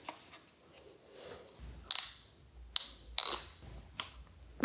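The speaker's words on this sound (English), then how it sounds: "Then the camouflage part just clicks over" The camouflage cover snaps onto a Campark TC21 solar trail camera in four crisp, close plastic clicks spaced about a second apart over a quiet background.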